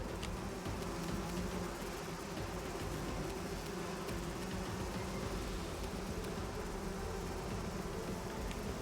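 A dense, continuous buzzing drone of an angry bee swarm in the video game Pathfinder: Wrath of the Righteous, steady and loud throughout with no voices.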